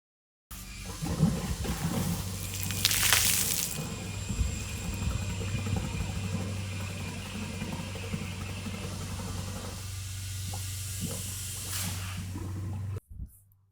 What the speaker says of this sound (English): as you saw, all that water blows out.